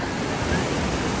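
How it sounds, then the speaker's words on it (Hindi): Sea waves wash in as a steady, loud broadband rush of surf and water at a beach shore, continuous and close with no clear talking. "अबे सेवली का सीन हो गया कि पानी की वजह से पीछे भागना पड़ रहा है।"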